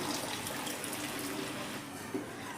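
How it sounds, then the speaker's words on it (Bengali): Water pours steadily from close by onto rice and chicken in a cooking pot, a continuous soft splashing rush with no talking. "তার ডবল পরিমাণ আমি জল দিচ্ছি"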